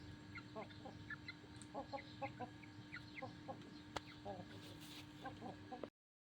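Hens rolling in the dirt cluck in short, repeated bursts close by, a soft steady hum underneath, then the sound cuts off abruptly near the end.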